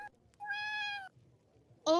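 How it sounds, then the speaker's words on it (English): A cat meows twice, a drawn-out mewl followed after a pause by a second sharper cry, close and clear against a faint murmur of background noise. "Oh, there's a kitty!"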